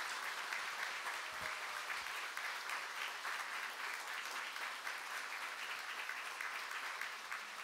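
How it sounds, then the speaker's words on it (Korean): A church congregation at a New Year's Eve worship service applauds its students, a steady, even wash of many hands clapping together for several seconds, heard from a distance and fairly quiet, with no talking. "우리 이들을 위해서 한번 격려하며 박수하도록 하겠습니다"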